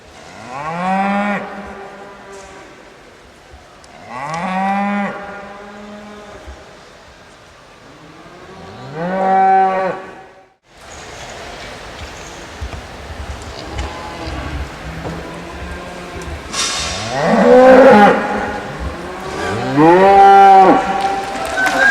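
Hereford cow-calf pairs in a junior national show ring bellow in long, loud moos, three separate calls spaced a few seconds apart, then a noisier stretch of overlapping lowing, rustling and crowd commotion.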